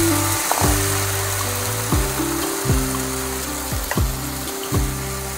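Rice flour dosa batter spreads onto a hot pan, giving a steady close sizzling hiss throughout, with a tonal backing of music that repeatedly sweeps and shifts underneath.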